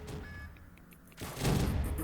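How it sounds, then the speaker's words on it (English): Rapid burst of pistol fire in the Roblox Zombies game on the Recoil Kino map, a quick string of shots swelling into a loud, dense explosive roar. "So you have to fire a burst, several shots in a row, very quickly, to get that explosive effect."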